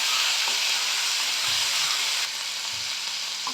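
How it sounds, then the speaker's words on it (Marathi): Ginger-garlic paste crackles and sizzles steadily in hot oil with cumin, asafoetida and turmeric, a loud continuous frying hiss with a few soft scrapes as the tempering is stirred. "फोडणी छान ढवळून घ्यायची आहे."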